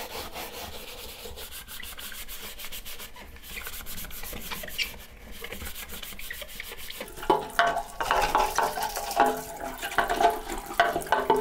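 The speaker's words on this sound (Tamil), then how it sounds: "இப்போ நம்ம இதை ஒரு பெரிய ப்ரெஷ் வச்சு நல்லா சுத்தமாக கழுவி க்ளீன் பண்ணிடலாம்" A large brush scrubs a plastic bucket clean of paint while it is washed with water. Steady rubbing and scrubbing runs throughout at close range, growing louder and more vigorous in the second half, with no talking.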